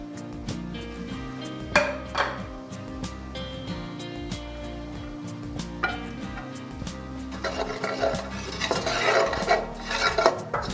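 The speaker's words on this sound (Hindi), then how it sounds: "सॉस बनाने के लिए हम ये थोड़ा सा ऑयल डालेंगे, और इसमें ये सारे इंग्रेडिएंट डाल देंगे।" Utensils clink and scrape against a pan as a small amount of oil and sauce ingredients go in for a spaghetti sauce, with steady clattering and stirring close up and a busier, louder stretch toward the end.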